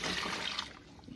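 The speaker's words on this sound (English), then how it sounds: "So here comes more brine. This room temperature water." Room-temperature brine water pours into a turkey brining kit, a brief, steady splashing rush of liquid heard close up, with no talking.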